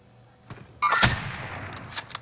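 Gunfire in a battle royale video game, a couple of distant sharp shots followed by a louder crack and trailing echo, brief and without talking.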